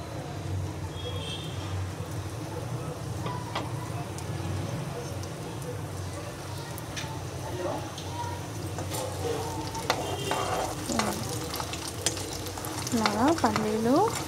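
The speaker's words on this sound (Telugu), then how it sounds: "ఇప్పుడు పల్లీలు, పోపు గింజలు, కొంచెం శనగపప్పు వేసేసుకుంటాం." Peanuts, seasoning seeds and chana dal hitting hot oil, a continuous close crackling sizzle with scattered pops, while a voice talks over it and a few short rising tones appear near the end.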